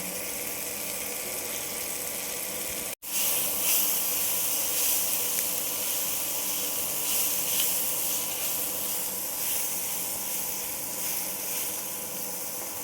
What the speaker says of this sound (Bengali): এইভাবে আমি ভেজে নেব।